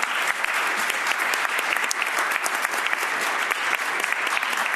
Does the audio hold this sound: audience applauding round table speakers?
yes